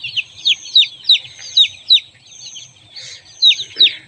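Turkey, guinea fowl and native chicken chicks at a poultry farm peep in a rapid run of high, thin chirps, close and fairly loud, with no talk.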